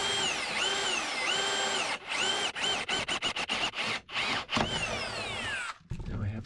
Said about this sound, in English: Big drill.